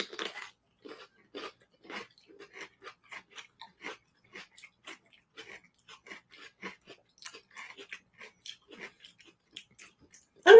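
Crunchy cucumber pickles are bitten and chewed up close, a series of quiet, irregular crisp crunches and wet chomps spaced through the moment, with no talking.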